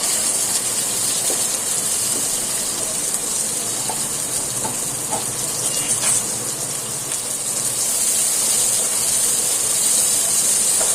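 Chopped garlic and onion hit hot oil seasoned with cumin in a pan, producing a loud, steady hissing sizzle that continues evenly throughout with no talking.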